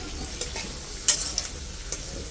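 Potatoes fry in hot oil for chicken biryani, giving a steady close sizzle with light stirring scrapes and clicks throughout.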